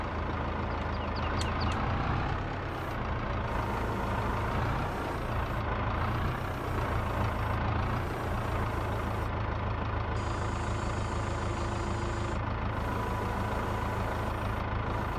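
A truck drives in Farming Simulator 22 during forestry log transport, a steady droning engine holding throughout with faint intermittent beeps and clanks, heard alone without talk.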